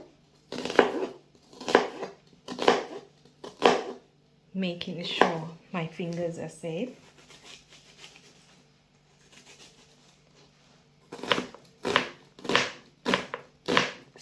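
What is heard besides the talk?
knife finely chopping an onion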